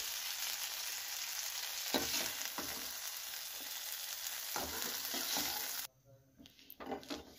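Green chillies, ginger and other ingredients frying in a kadhai for fish curry, a loud steady sizzle with periodic spatula scrapes against the pan, then the sizzle drops away abruptly while a few clanks continue near the end.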